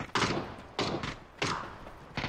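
Three heavy, muffled gunshots in PUBG boom at roughly even intervals, each with a short thudding tail, fairly close and loud.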